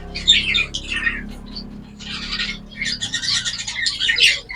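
Close society finches chatter in clustered bursts of squeaky, buzzy chirps separated by brief pauses, fairly loud and with no talking.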